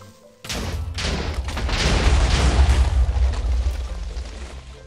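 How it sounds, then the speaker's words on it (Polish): Minecraft creeper explosions in a cave, one blast setting off another: a sudden loud boom erupts after a brief quiet and rolls into a sustained, rumbling roar that stays heavy for several seconds before easing slightly. "Creeper jeden aktywował drugiego chyba. No nie wiem, jak to inaczej wytłumaczyć, ale potężnie buchło."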